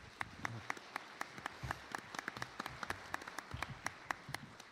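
Sparse, fairly faint clapping from a small audience for presenters at an elevator pitch event, distinct individual claps in an irregular rhythm over a quiet room.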